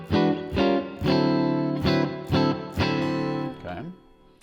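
A distorted electric guitar through a Line 6 Pod Express plays chord stabs with a broad, lingering hall reverb tail; it fades out near the end.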